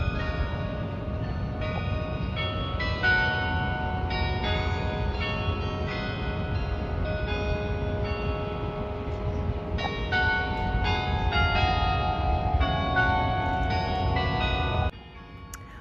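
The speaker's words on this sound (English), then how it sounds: "the bells in the clock tower nearby are ringing" Bells ring out from a clock tower at a distance in Norway, overlapping chimes sustaining and layering over one another with a faint ambient backdrop, stopping abruptly near the end.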